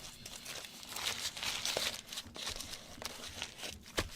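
Thick, waxy tissue paper is crushed and squished by hand for a mixed media art journal collage, giving close, continuous crinkling and crackling with a few sharper snaps.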